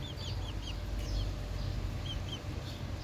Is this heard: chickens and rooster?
yes